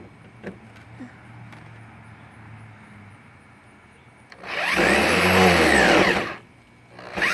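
A power drill drives screws into wood while a sandbox is torn down, a loud whirring burst of about a second and a half after quiet background noise, with a shorter start at the very end.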